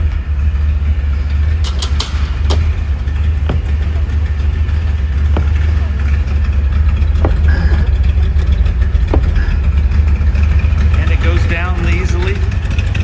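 A 1969 Corvette L46 350 hp V8 idles through a dual exhaust with a steady, deep low rumble throughout, with faint clicks and a few quieter background sounds over it.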